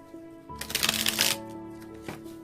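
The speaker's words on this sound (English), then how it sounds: "They told me one more shuffle." A brief riffle of tarot cards being shuffled, a quick papery flutter lasting about a second, close up over a quiet musical hum.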